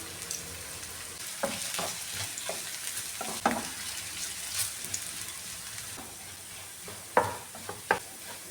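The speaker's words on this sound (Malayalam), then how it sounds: "ഫ്ലെയിം കുറച്ചിട്ട് വേണം ഇഞ്ചി വറുത്തെടുക്കാൻ, അല്ലെങ്കിൽ കരിഞ്ഞു പോകാൻ ചാൻസ് ഉണ്ട്." Thin ginger slices fry in oil over a low flame, giving a soft, steady sizzle with occasional stirring scrapes and clicks from a utensil in the pan.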